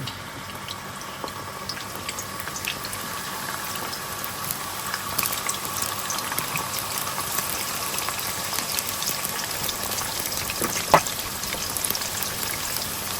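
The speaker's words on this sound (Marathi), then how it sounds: "आमी सगळे पटेटोज फ्राय करूया." Potatoes frying in a pan for a Goan red masala beef curry, a steady soft sizzle and crackle running continuously, close and moderately quiet, with no talking.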